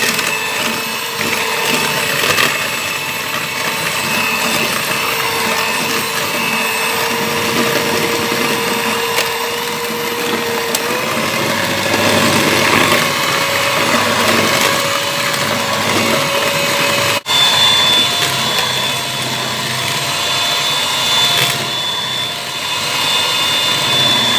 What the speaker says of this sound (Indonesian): Kemudian kita mixer dengan kecepatan rendah, sedang, dan tinggi ya pemirsa.